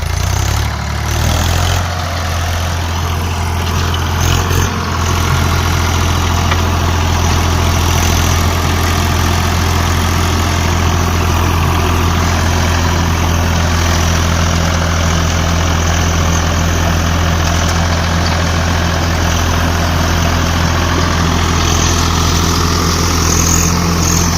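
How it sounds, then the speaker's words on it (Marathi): A farm tractor engine runs steadily near and loud, holding a continuous low drone for the whole stretch while working a rotavator to till a field. "बसली मस्त ट्रॅक्टर चालवायला, रोटर मारायला"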